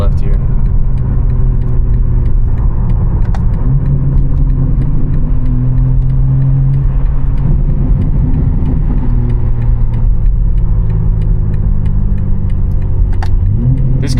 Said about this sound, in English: This car with just the CS Flash and a mid-pipe is an absolute monster.